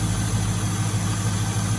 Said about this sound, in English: As you can hear, it idles perfect.